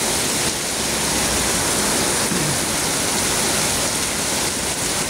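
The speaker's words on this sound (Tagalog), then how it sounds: "ganyan kalakas ang ulan dito sa Nuvali na sobrang dilim ng kalangitan" Heavy rain pours down in Nuvali under a very dark sky, a loud, steady, dense roar of falling water that continues without pause.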